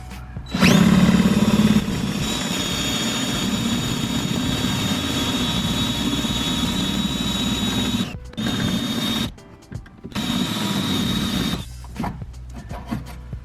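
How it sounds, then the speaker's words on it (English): A power drill with an 8mm bit whines steadily at close range, drilling out a rivet on a Ford Fiesta ST, cutting out briefly a few times before spinning up again, with no voices. "just keep on going and drill straight in through with our 8mm drill bit"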